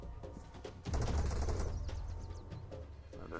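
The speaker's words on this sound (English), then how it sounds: "Oh, they're shooting at someone." Gunfire in an ARMA 3 urban warfare battle, a burst of rapid shots with a loud onset near one second, then continuing crackle and distant firing under the game's ambience.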